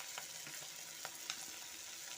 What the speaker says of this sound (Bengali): তেলটা গরম হয়ে গেছে, এখন আমি মাথাগুলো ভেজে নেব।